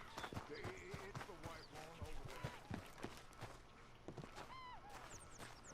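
A horse in the Red Dead Redemption 2 video game snorts and whinnies while its hooves clop and shuffle nearby, mixed with game ambience and a voice talking.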